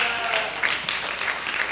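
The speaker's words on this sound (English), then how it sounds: "Give a big round of applause." Audience applause at a county fair lamb and sheep show, a steady, moderately loud wash of clapping from a crowd lasting under two seconds.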